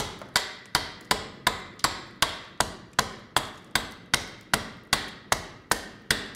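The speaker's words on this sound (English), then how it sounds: "do a little bit of chopping and just assess where you're removing the timber" Sharp, evenly spaced chops of a blade nicking into wood while carving a spoon blank, about sixteen crisp close strikes at a steady quick rhythm, each with a short decay, with no talking.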